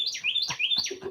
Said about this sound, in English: my bird is responding to your bird